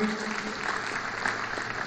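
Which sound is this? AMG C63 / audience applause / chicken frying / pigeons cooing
audience applause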